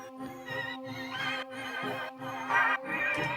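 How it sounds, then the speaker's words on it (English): A weird little synth pad sits in a track breakdown, its wavering, warbling tones swelling and pulsing in a soft, steady loop. "like a weird little pad sort of thing"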